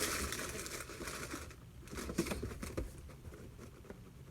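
A shipping box padded with crumpled newspaper is shaken, giving soft, quiet rustling and crinkling patters in irregular bursts with no voices.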